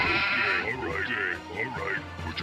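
Sheep in the Warcraft II: Tides of Darkness game bleat several times in quick wavering cries, with someone talking over them.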